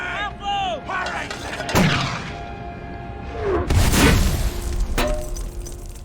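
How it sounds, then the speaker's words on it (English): Mortar fire in a Second World War drama scene of Marines training at Camp Elliott, California: three sharp booming blasts spaced a second or two apart over low rumble, with a brief voice near the start. "Training with mortar."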